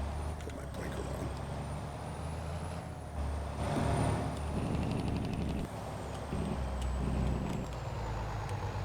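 A big rig in a truck-driving video game hauling a brand-new tractor, its engine droning steadily while sharp hissing bursts of air brakes cut in, with a faint high whine running throughout.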